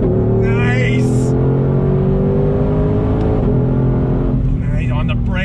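A 2020 Ford Shelby GT500 Mustang engine revs hard and close, its pitch rising and dropping sharply as it downshifts under braking.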